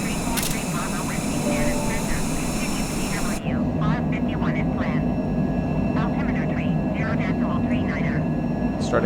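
Steady, loud engine roar of an airliner climbing after takeoff from Dublin, bound for Halifax, heard from the flight deck as a continuous drone, with a voice talking over it in the second half.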